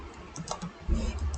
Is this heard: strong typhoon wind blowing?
no